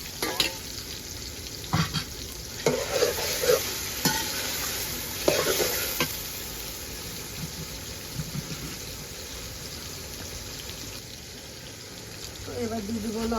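Raw jackfruit frying with ginger and green chili in a pan, a steady broadband sizzle running throughout with repeated scraping stirs and clatters, loudest early on, then settling into a quieter continuous fry.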